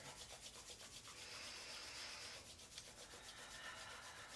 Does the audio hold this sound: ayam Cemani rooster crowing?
no